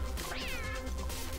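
A space cat in the video game Lovers in a Dangerous Spacetime gives a single clear, rising-and-falling meow, close and alone.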